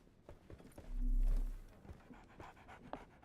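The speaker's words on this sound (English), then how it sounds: "So, Barnes has a dog now." A dog pants quickly in a Sherlock Holmes video game, breathy huffs close by with soft footstep-like clops and small whimpers mixed in, no talking.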